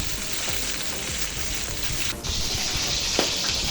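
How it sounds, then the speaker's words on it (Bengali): Spice paste for a bhuna hilsa fish curry cooks in oil in a wok over low heat, making a dense, continuous hissing sizzle, with a brief clatter partway through. "আমি কিন্তু এরকম চুলা আস্তে রেখে এখন আমি ভুনা মাছের মশলাটা কষিয়ে নিব।"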